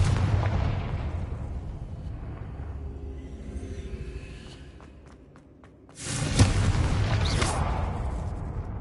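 Confringo spell explosions in Hogwarts Legacy rumble loudly at first, fade into quieter crackles and scattered pops, then a second powerful blast erupts and sustains near the end.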